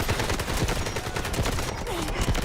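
Rapid automatic gunfire in the shooter game Delta Force, a dense stream of sharp, close shots and bursts lasting throughout, with a voice briefly talking underneath.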